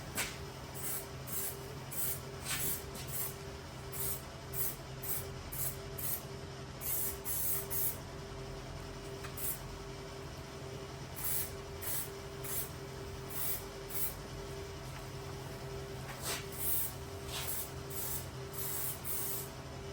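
Short bursts of spray hiss as blending thinners are sprayed onto fresh clear coat on a car panel, repeating in irregular pulses over a low background hum, fairly quiet and close.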